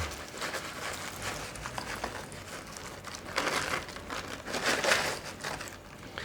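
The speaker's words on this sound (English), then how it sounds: "I'm going to fill the top up full of the onions" Crispy fried onions are scattered by hand over the top of a green bean casserole, giving a steady, close crinkling and light pattering that swells a few times, with no talking.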